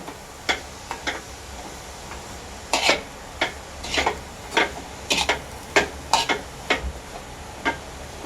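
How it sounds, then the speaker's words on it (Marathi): Grated coconut filling for coconut barfi stirred in a pan, a spatula tapping and scraping the metal in irregular clicks and short clusters over a soft background hiss, with no talking. "आता हे आपण पाच दहा मिनटं असंच हलवत राहायचं आहे सारण"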